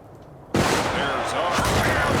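Sudden burst of massed gunfire and artillery shots from a battle simulation game, starting abruptly after near-silence and continuing as dense, loud overlapping cracks and booms.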